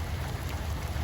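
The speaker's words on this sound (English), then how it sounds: "More rain" Steady rain falls in a thru-hiking setting on the Appalachian Trail, a continuous broadband hiss of drops with no distinct thunder, at an even, moderately loud level.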